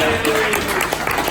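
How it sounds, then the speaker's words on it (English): A short burst of audience applause at a live stand-up and investor event in San Diego, dense clapping from a crowd filling the room close and steady, with voices mixed in. "Give him a big round of applause."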